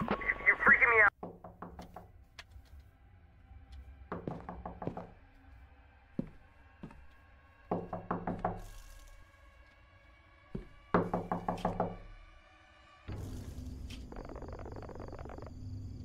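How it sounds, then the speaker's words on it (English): Knocking on a door inside the horror game Fears To Fathom: Ironbark Lookout, heard as several clusters of quick raps repeated across the clip against quiet night-woods ambience with insect-like chirps. "I've been knocking for hours."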